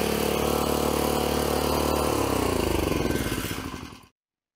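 A Craftsman tiller's 6-horsepower Tecumseh small engine runs steadily at a loud idle, then slows and sputters to a stop as the throttle drops off and it shuts down.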